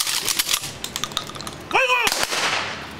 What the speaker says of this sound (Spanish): Como parte de la ceremonia luctuosa se hicieron disparos al aire